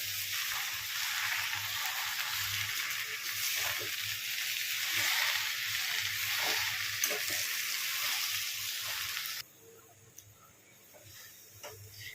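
Gongura leaves sizzling and frying in a hot pan for a village-style gongura chutney, a steady close crackling hiss that drops abruptly to a quieter simmer near the end.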